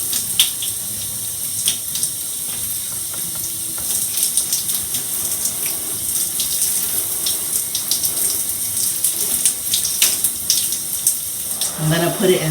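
A steady, loud stream of tap water rushes and splashes while natural hair is rinsed, a continuous close hiss with small shifts in flow, joined by a faint voice near the end.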